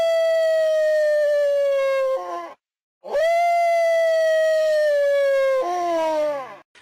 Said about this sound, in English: there are 2 hidden noises for the dog inside the game files